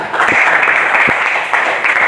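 A classroom of students gives a short burst of applause for a student named Rifkan, with dense, steady clapping that fills the room throughout and a few sharper claps standing out.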